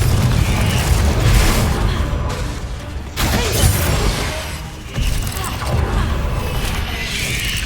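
A Confringo fire spell goes off in the Hogwarts Legacy video game, with loud booming blasts and crashes over a dense, continuous roar of battle effects.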